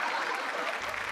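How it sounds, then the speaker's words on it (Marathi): Studio audience applause on a Marathi TV comedy show: a brief burst of dense, even clapping from a crowd, filling the whole moment without a pause. "त्याच्याबद्दल जोरदार टाळ्या झाल्या पाहिजे त्यांच्यासाठी"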